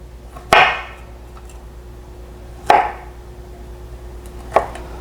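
A knife slices through a broccoli stem on a cutting board for a stir fry, giving three sharp, separate cuts about two seconds apart, each ending in a knock on the board, close and clear over a quiet background.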